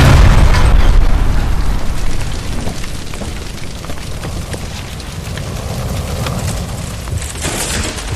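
A gas line explodes in the video game LA Noire, a heavy booming blast at the start that rolls into a long rumbling, crackling roar of fire and debris, loud and close.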